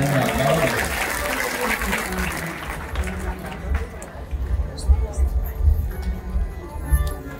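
An audience at a sung Navnath religious discourse in Dharangaon claps in a dense burst for the first few seconds, then the applause dies away under a voice speaking.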